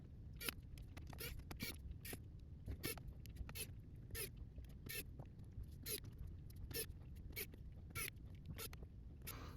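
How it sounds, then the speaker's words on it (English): Small screws are driven back into a Dell Latitude 7400 laptop, giving a run of quick, sharp clicking and ratcheting bursts in an irregular rhythm, close and fairly quiet. "let's put back in those 20 screws"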